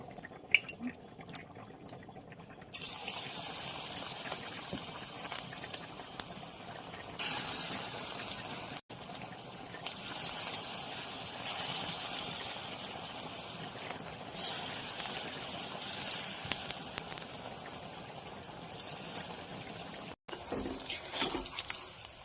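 Drumstick flower fritters sizzle in hot oil with a steady, hissing crackle that swells and eases over time, fairly soft and close, with no one talking.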